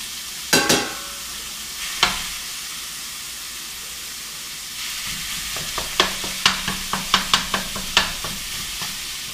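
Meat, chopped onion and other ingredients sizzling in a pan for a hot dish, a steady hiss broken by an early clatter and then a run of sharp, rhythmic spatula scrapes and taps, with no talking.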